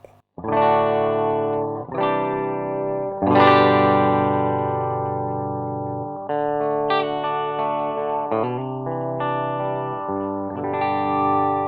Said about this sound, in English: how can you get a clean sound from a cranked up amp